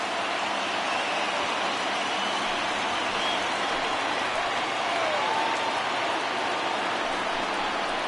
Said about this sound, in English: listen to this crowd now. They are really into this